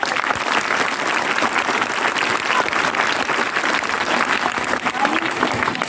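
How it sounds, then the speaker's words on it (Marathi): Loud, dense applause from a school audience at a student election event, a continuous roar of many hands clapping steadily throughout with no break. "जोरदार टाळ्या"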